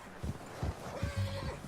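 A horse in Red Dead Redemption 2 gives a brief neigh amid soft hoof clops and snorts, fairly quiet and close, with a few low thumps spaced through the moment.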